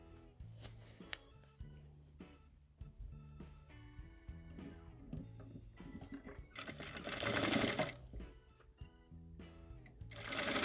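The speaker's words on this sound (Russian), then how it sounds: "Лишнее кружево обрезаем и стачиваем средний шов подола" A sewing machine stitches the middle hem seam of a soft bunny toy. It runs in short, start-stop bursts and then a longer, louder run near the end, close and alone.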